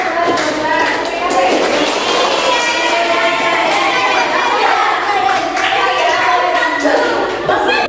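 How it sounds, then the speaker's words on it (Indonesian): Schoolchildren clap together in a classroom, a busy patter of small hands mixed with overlapping children's voices and chatter throughout. "Tepuk tangan dulu."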